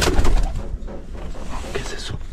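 Pigeon or dove cooing while climbing the small Pabellones volcano near Yanaoca, Cusco, Peru: low, rounded coos close by over steady outdoor rumble and wind noise.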